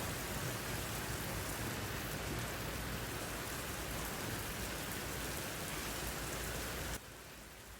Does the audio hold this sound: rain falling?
yes